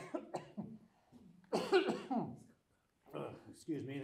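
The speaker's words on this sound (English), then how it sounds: "Excuse me, the smoke seems to seek you out. I have quite the cough now." A man coughs from smoke during a Manx stage drama, a few rough bursts and throat-clearing sounds broken by pauses, close and mixed with spoken lines.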